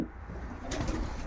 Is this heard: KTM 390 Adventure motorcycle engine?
no